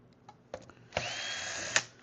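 A power screwdriver runs in a sustained whine for about a second as screws are backed out of an Xbox Series X console cover, with a few light clicks of handling beforehand and a sharp tick at the end.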